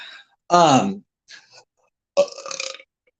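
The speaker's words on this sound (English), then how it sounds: "He's burping on his live stream" A loud, drawn-out burp, then a short faint one, followed by a rough, croaky belch. No clear words are spoken.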